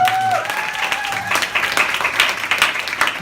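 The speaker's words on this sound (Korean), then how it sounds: "박수 한번" Applause from a live talk-show audience rises after a brief tonal note at the start, a moderately loud patter of many hands lasting a few seconds.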